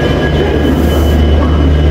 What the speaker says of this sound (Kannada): Yeshwanthpur railway station